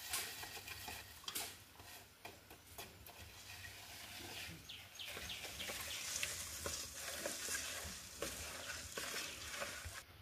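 Homemade guava soap mixture being stirred by hand, a steady scraping, swishing stir with small clinks, close and moderately quiet, with faint birds and a rooster in the background.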